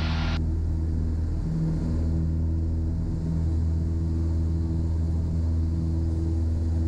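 Cessna 172 light airplane engine at full power during takeoff climb on a hot, bumpy day, a steady loud droning hum with low harmonic tones, continuous and close throughout with no talking.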